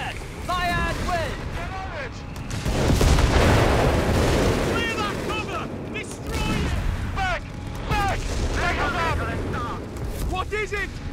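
Artillery barrages in a Company of Heroes 3 Afrikakorps multiplayer battle, heavy booming blasts swelling into a dense rumble over several seconds, with shouted voices and radio chatter on top throughout.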